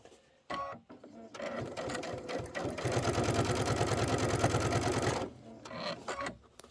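Sewing machine stitching quilt sections of a candy corn quilt, a steady rapid mechanical chatter of the needle running for a few seconds between softer clicks and handling noises, close and clear with a voice speaking around it.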